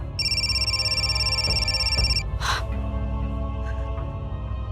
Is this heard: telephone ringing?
yes